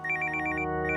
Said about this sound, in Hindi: शायद तुम्हारा फोन बज रहा है